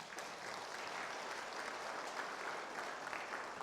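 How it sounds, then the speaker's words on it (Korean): A congregation at a Won Buddhist dharma service applauds for the choir members, steady even clapping from many hands heard slightly distant and fairly soft, sustained evenly from start to finish without talk. "우리 단원들 잘 하시라고 박수 한번 쳐"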